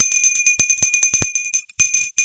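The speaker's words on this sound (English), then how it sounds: "I'm also going to just ring the bell." A bell is struck repeatedly in quick succession indoors, each bright metallic strike ringing out loud and close with sustained overtones between hits, a brief gap near the end before the ringing resumes.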